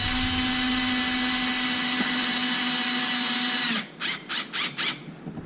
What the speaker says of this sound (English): I am gonna have to change my bit on the drill